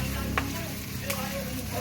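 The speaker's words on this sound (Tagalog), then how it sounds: "Lutuin ko muna to kay tatalsik-talsik na." Food frying in a pan at home, a steady sizzle with occasional small pops and splatters, heard close and fairly quiet throughout.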